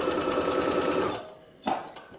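A sewing machine runs a basting stitch along a knit V-neck neckband, a steady close mechanical whir that stops after about a second, followed by a couple of short clacks.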